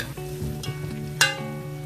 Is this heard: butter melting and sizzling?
yes